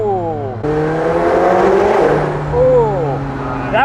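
A McLaren 720S Spider convertible supercar accelerates hard, its engine note rising loud and close through stacked gear pulls, with a brief lift between shifts before climbing again.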